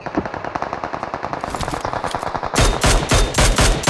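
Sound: gunfire in PUBG Mobile video game

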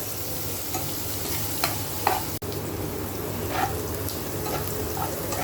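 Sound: frying garlic, onion and chili in oil for pumpkin fry

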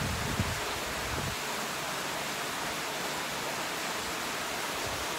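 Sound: pool rock feature waterfall

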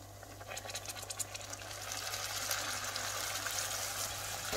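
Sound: warm water poured into paneer lababdar gravy

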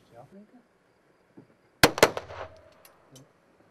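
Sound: pistol shots at a shooting range

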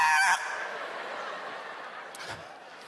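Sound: comedian vocally imitating a scared baby giraffe's cry

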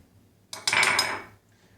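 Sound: spoon stirring coffee in a cup

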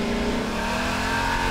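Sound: video game car engine revving

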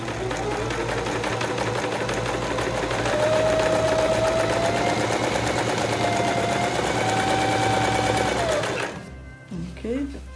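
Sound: Singer sewing machine stitching a straight line

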